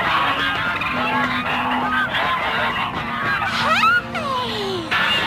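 Several geese honk repeatedly over a steady background rush, their calls rising and falling in loud overlapping bursts close by.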